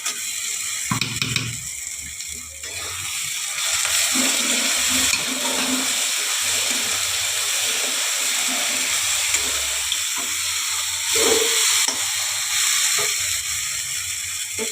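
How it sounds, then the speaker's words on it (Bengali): A paste of mustard, white mustard and poppy seed goes into a hot pan for a pomfret mustard-poppy curry, giving a steady, loud sizzle with stirring scrapes throughout. "বন্ধুরা এখানে সর্ষে, সাদা সর্ষে আর পোস্ত আছে, এই বাটাটা আমি পুরোটাই দিয়ে দেবো।"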